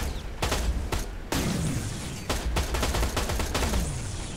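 Rapid bursts of gunfire in the video game Terminator: Resistance, several sharp volleys and automatic rattles close and loud, separated by brief gaps and with no talk over them.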